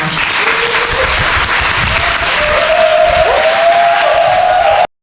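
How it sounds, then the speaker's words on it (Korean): A large crowd at a Korean Buddhist youth camp gives loud, sustained applause, with a dense roar of clapping and some cheering and crowd noise, and a sustained tone rising underneath before the sound cuts off abruptly. "청년 불자들을 위한 애정으로 큰 후원을 아끼지 않으신 화엄산 교구장 스님께 여러분 큰 박수 부탁드립니다."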